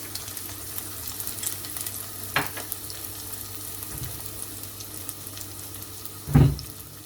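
Steady crackling sizzle of food frying in hot oil in a pan, with a couple of brief clatters of a utensil stirring.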